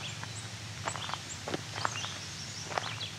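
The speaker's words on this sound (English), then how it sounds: "So you're hearing right now is red-eyed vireo." A red-eyed vireo sings from roadside woods in short, separated phrases, moderately distant and repeating at intervals over a steady low ambient hum.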